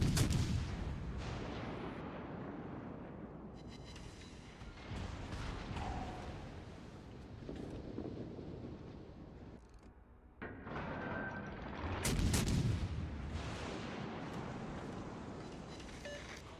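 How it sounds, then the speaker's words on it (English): Warship main batteries firing in the naval combat game World of Warships Legends, a series of loud booming salvos with crackling tails and short gaps between them, no talking. "Concentrate fire on that enemy warship."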